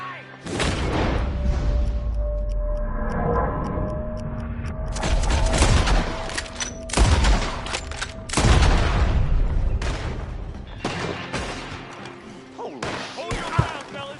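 Gunfight in Red Dead Redemption 2, with repeated loud gunshots and booming impacts in uneven bursts, shouting voices heard between the shots.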